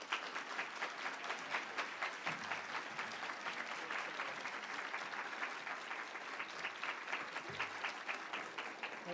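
A large audience applauds steadily and loudly for the full duration, welcoming Dr. Benjamin Carson onstage at a talk on health disparities and health care reform, with dense sustained clapping and no speech.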